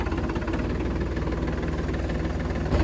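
A Sonalika DI 32 RX mini tractor engine with a dry air filter runs at a steady idle, a close, even diesel throb with rhythmic low knocking throughout.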